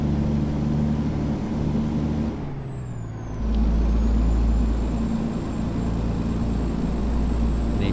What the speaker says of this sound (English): I think I got the interior sound for Kenworth.